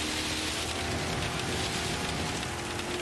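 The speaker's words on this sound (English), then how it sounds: "Absolutely love the sound of that rain now." Steady rain hiss in Gran Turismo at the Nurburgring GP circuit during a GR4 Team Tourer race, a dense continuous wash with faint low engine hum and a thin steady tone underneath, no voices.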